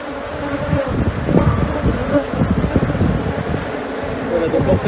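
A swarm of agitated Africanized honey bees buzzes densely around their nest, a steady droning hum close to the microphone with wind noise, while people talk nearby.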